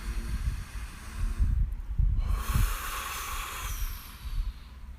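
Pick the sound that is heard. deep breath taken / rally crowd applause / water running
deep breath taken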